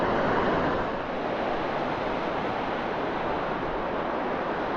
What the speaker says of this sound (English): Lovely waves out there today.